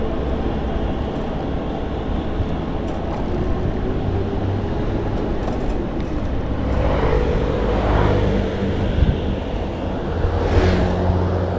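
Heavy road traffic with many cars driving past, a continuous loud rumble that swells as vehicles pass close by, with no voices heard.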